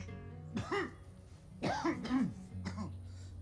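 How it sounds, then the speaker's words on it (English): A few throaty coughs and throat-clearing sounds close by, in short bursts separated by brief pauses. "You still have that cough?"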